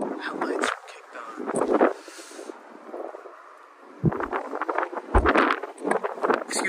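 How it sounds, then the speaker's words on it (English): Strong wind buffets the microphone outdoors beside a 2024 Ford Raptor in Shelter Green Metallic, coming in loud, irregular rumbling gusts that ease briefly in the middle before surging again. "It's really windy today."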